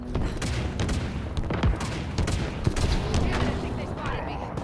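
Rapid bursts of gunfire and sharp shots in the video game Halo Infinite, dense and continuous across the whole stretch with a few louder cracks standing out over a steady battle din.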